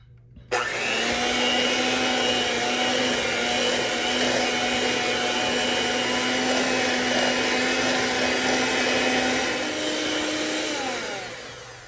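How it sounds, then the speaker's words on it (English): An electric mixer whirs loud and steady through sweet potato pie filling, starting abruptly and running continuously for about ten seconds before slowing slightly at the end. "now we're going to use the mixer"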